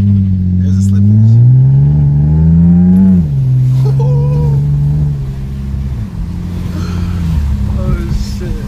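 A BMW E36 with its muffler deleted revs continuously nearby, a loud droning engine tone rising, falling and holding through gear changes, with faint crackles near the end.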